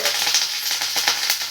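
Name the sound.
curry leaves sizzling as they are added to the pan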